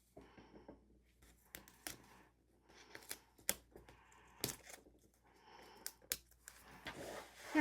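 Scissors snip through paper while cutting pieces for an Erin Condren Daily Duo planner. Several quiet, close cuts come in irregular clusters with soft rustling between them.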